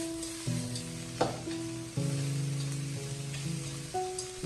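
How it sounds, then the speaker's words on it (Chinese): Bean sprouts stir-fried in a wok sizzle steadily, with scraping and tossing of the spatula marking the turns of the food; close and continuous, with no talking. "充分的翻炒均匀，把豆芽菜炒至入味。"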